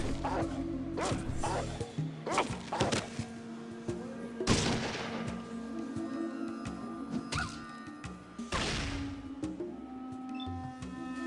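A dog barks amid gunfire in the video game Fallout, sharp shots and barks mixed together in bursts over a constant hum, with someone talking over parts of it.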